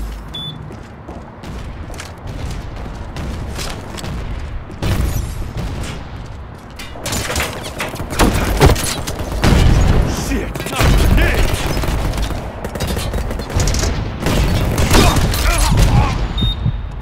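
A grenade blast in the PC shooter Ballistic Overkill lands amid rapid game gunfire, with heavy booms and crackling shots building through the clip and voices occasionally heard over the din.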